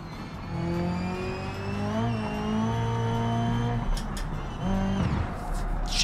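Car engine revving in BeamNG.drive, a strong harmonic drone that climbs and shifts pitch as the engine is pushed hard, with a tire squeal; continuous and close for the whole stretch, dipping briefly before revving up again.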